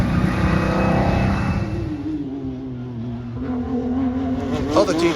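Race cars out on track at the Hankook 24 endurance race, an engine drone rising and falling in pitch as a car passes at middle distance, with a voice speaking over it.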